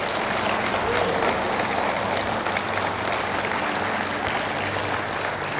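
Church congregation clapping steadily together, a dense, even wash of many hands that holds at a constant level throughout.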